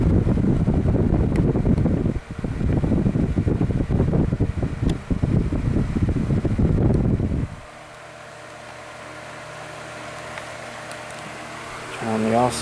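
A Lasko 12-inch oscillating table fan (model 2150/3150) runs on high with a loud, steady rushing blow for several seconds, then cuts to quiet faint hum near the end.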